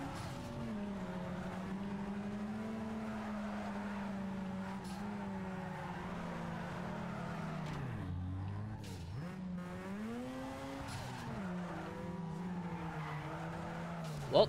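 A Mazda RX-8 races in Need for Speed Underground 2, its engine droning at steady high revs with a brief dip and recovery as it shifts, while tires squeal and skid through the corners.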